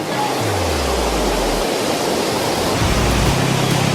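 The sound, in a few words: flowing water of Rila Monastery moat, Bulgaria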